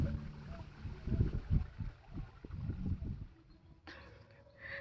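Water running past a pond beside lemon trees in the morning, a soft gurgling trickle with low splashy pulses, quiet and near, fading out before a brief brighter hiss at the end.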